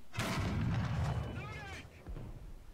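A tank cannon fires a shell in War Thunder, a deep booming blast followed by a rumbling tail. A second thud comes near the end, with a voice talking over the sound.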